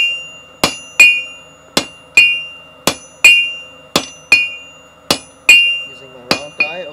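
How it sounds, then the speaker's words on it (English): A hammer forges hot steel on an anvil, shaping a shoulder for a flower bottle opener. About a dozen loud, ringing strikes fall in a steady rhythm, often in pairs, each with a bright metallic ring, and no voices are heard. "Now I can start approaching the shoulder on the far side of the anvil."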